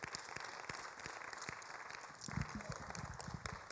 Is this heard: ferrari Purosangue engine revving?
no